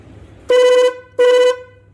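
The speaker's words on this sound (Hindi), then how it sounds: "अभी हम पहले तो इसका हॉर्न चेक करते हैं कि हॉर्न चल रहा है कि नहीं चल रहा।" A vehicle horn is tested twice up close, two short loud honks about half a second apart, with a quiet background.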